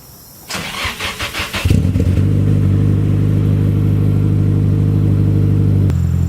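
Teal 240 car engine cranking over with rhythmic starter pulses, then catching and settling into a loud, steady, close-up idle that runs on alone.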